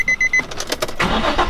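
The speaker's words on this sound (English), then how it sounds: "I'm going to go ahead and show you what my car has been sounding like when it starts up." A Nissan 350Z cranks with a few quick chirping starter pulses, then its engine catches and settles into a steady rumble close by, all within a couple of seconds.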